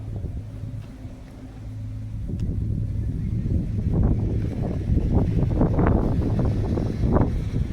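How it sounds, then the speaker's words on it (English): Side-by-side utility vehicles riding around nearby on Texas property, a rumbling engine drone that swells and grows louder as one approaches, mixed with wind noise. "I got neighbors riding all around seeing what we're doing, and they're riding around on side-by-sides"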